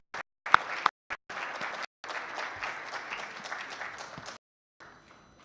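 Audience applause for the panelists at the close of an Islamic finance and impact investing conference session, quiet and roomy with several short bursts before a steadier round of clapping that stops abruptly.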